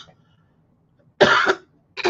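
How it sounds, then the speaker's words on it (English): A single person's harsh cough bursts out close and loud after near silence, followed by the start of another cough at the end. "Every other word is a cough."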